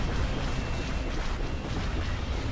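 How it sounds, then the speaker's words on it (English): Proton torpedoes from charging Y-Wing bombers pound a space station in Empire at War: dense, continuous rumbling blasts that overlap into a loud, steady roar with no pauses for the whole stretch. "the Y-Wings are charging in, making their slow approach, but definitely a very, very deadly one to this space station, and they are dropping off their proton torpedoes"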